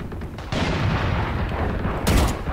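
Gunfire from a Valorant match, including Judge shotgun blasts, sounds as a loud close shot cracking in at about half a second, followed by a second sharp burst near the two-second mark over dense in-game noise.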